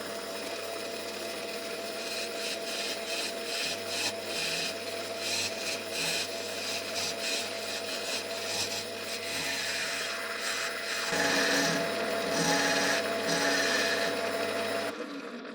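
A patterned plywood bowl spinning on a wood lathe while its underside is turned, a continuous scraping, rasping cut over a steady motor hum, close and fairly loud, alone without speech.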